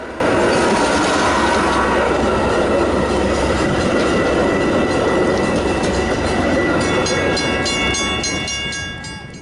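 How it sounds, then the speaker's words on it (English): Canadian Pacific Holiday Train backing slowly into a siding tail end first, a loud steady rumble of rolling cars with clickety-clack and faint wheel squeal, fading slightly at the end. "The holiday train backs into the siding tail end first, ready for the festivities."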